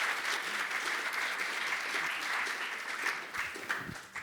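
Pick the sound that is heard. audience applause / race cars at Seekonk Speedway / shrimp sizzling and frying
audience applause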